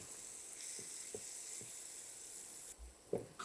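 Garlic mash (bhorta) frying in oil in a pan makes a faint, steady, airy sizzle throughout, with a few soft clicks and a light knock near the end.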